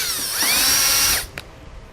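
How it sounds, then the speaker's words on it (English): A power drill whines steadily as it bores a 5/16 hole through plastic and a metal bracket on a 2015 Buick Enclave, the pitch dipping near the end before it cuts off, followed by a brief click. "We'll drill right through the plastic and the bracket itself."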